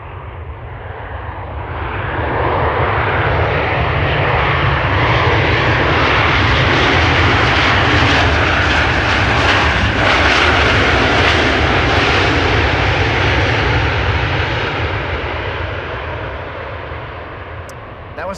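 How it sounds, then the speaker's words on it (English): A Boeing 737-900 arriving at Amsterdam Schiphol touches down with thrust reversers deployed, a loud, close roar swelling over a few seconds, holding as a powerful broadband rush, then easing away. "That was definitely the reversers being deployed."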